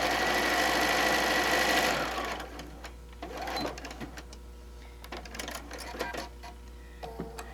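A sewing machine stitches a 1/4-inch quilt seam in a loud, fast, steady whir for about two seconds, then stops, leaving quieter clicks and handling noises of fabric and machine parts.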